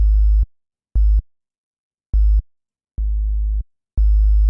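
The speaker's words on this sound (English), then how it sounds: "if I set all of this to 0 and I just play a sine wave" Pure sine wave test tone played in steady on-off bursts, several short loud pulses and one longer held tone, alone with no voices.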